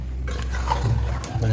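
Mutton masala with soaked ingredients being stirred in a pan, with soft scraping and a low sizzle under steady background, brief and close.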